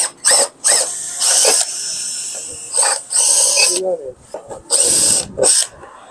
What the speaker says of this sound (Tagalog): gumagamit tayo ng step drill bit para maayos yung pagbutas natin